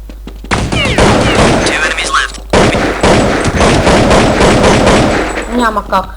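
Rapid bursts of rifle fire in Counter-Strike 1.6 on the de_dust2 map against bots, loud and near, nearly continuous with a brief pause, while a player talks over the shots.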